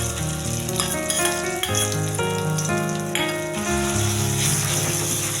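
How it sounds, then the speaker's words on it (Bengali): A ground paste of poppy seed, mustard, sesame and green chili sizzles in a pan with a little nigella seed, frying steadily and close up with occasional stirring clinks, no talking. "ভালো করে ভাজবো"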